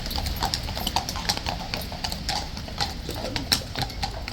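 Steady clip-clop of a horse's hooves on a hard surface at Horse Guards, a brisk repeating rhythm at moderate distance with faint background murmur.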